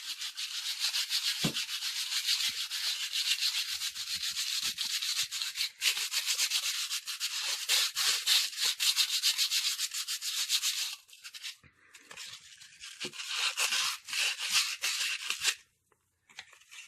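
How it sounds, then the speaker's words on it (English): Hand sanding of a wooden hat hanger gives a steady, close scratchy rasp with quick back-and-forth strokes, running continuously. It pauses briefly near the end before resuming. "you just want to sand it so it looks pretty good and feels really nice"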